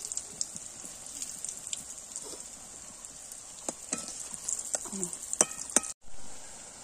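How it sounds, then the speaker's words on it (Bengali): Raw green banana pieces frying in hot oil, a continuous hissing sizzle with occasional clinks and scrapes of a utensil, a brief dropout near the end, no speech. "এখন এগুলো লাল লাল করে ভাজা হয়ে গেছে।"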